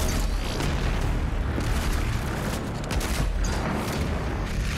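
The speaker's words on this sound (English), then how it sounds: "Right now I'm using grenade launcher attachment with the shotgun." Shotgun grenade launcher attachment fire in the video game Doom Eternal brings loud, rapid, overlapping booms and bursts. The dense explosive din runs without a break through heavy combat.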